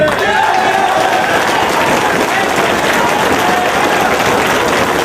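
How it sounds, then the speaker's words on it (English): A wrestling crowd at Ring of Honor's Glory By Honor IV applauds James Gibson, a loud, steady roar of clapping and cheering that fills the arena without a break, with voices and whistles woven through. "please give James Gibson a round of applause"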